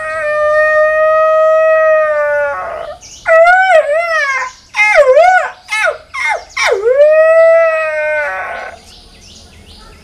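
A human voice imitates a jackal's howl: long sustained wails broken by yipping, wavering cries, loud and close, with no other sounds.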